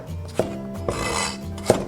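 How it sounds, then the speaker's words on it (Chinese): A knife chops ginger into pieces on a cutting board with a few sharp, distinct knocks spaced unevenly over two seconds. The chops are close and clear, with faint background hum and no talking. "生姜切块。"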